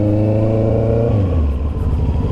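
A motorcycle engine roars loud and close, holding a steady note, then drops in pitch midway as the bike goes by.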